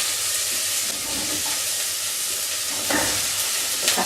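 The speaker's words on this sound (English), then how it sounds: "So in go the carrots, in go potato," Carrots and potato tipped into a pot for home-made soup, giving a steady hiss and sizzle with faint clatter and a slightly louder stir-like rustle near the end; no talking.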